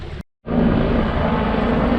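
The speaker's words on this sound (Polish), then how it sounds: "Poleciały dwa Apache helikoptery, jakieś wojskowe." Two military Apache helicopters pass over a Sardinian beach, heard as a loud, continuous low rotor-and-engine roar that cuts out for a moment and then returns steady.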